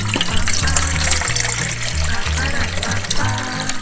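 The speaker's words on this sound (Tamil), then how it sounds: "நம்ம இப்போ இட்லி பாத்திரத்தில் தண்ணி ஊற்றி நம்ம வேக வச்சுக்கலாம்." Water poured into an idli steamer pot, a close, loud, continuous splashing gush that fills the whole stretch alongside a low hum from the kitchen.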